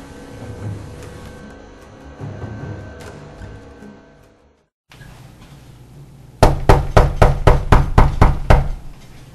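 Knocking at a door in an audio drama: after a stretch of quiet background tones, a rapid series of about eight loud, sharp raps lands close and clear, with no voices over it.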